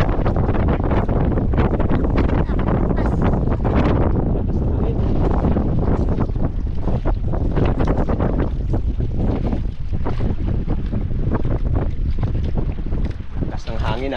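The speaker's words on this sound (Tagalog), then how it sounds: "Lakas ng hangin ah." Strong wind roars steadily across open sea aboard a small fishing boat, a loud constant buffeting rush with engine and water noise, voices talking faintly underneath.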